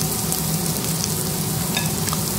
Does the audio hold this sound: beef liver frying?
yes